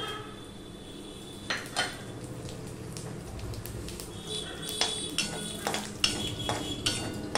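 Five-spice and bay leaves are tempered in hot oil in a pan for a vegetarian pumpkin dish. Metal utensils clink and scrape against the pan in sharp, irregular knocks over a soft sizzle, close by.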